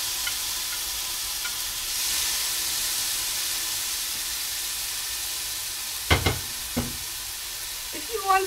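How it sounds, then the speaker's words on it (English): Tomato and red pepper sauté quietly in a preheated pan with a soft, steady sizzle, broken near the end by a few brief utensil scrapes and clicks. "I've got some tomato and some red pepper that I'm going to just saute a bit in there"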